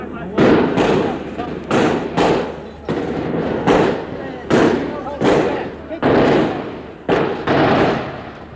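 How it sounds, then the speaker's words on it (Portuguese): Gunfire during the 25 April revolution: a rapid series of sharp, booming cracks and thuds, repeated roughly every half second to second, loud and reverberant, with voices faintly underneath. "generalizou-se o tiroteio"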